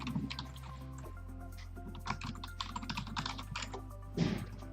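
Keys clatter on a desktop computer keyboard as a login and password are typed, a quiet run of uneven taps and clicks with short pauses, close to the microphone.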